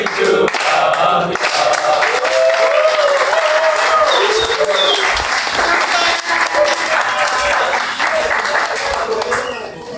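A crowd claps for a football club team gathering, a dense, loud burst of applause that lasts throughout, with cheering voices and sung tones rising through it.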